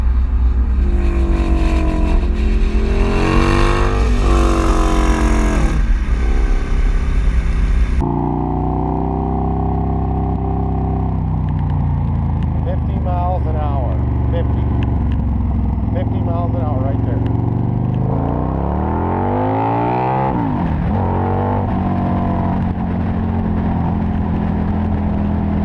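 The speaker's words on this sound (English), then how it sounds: "The exhaust, that's a Bassani B1 race exhaust." A Harley-Davidson V-Rod fitted with a Bassani B1 two-into-one race exhaust runs loud and close, its deep engine note continuous with a rising rev later on, while a person talks over it throughout.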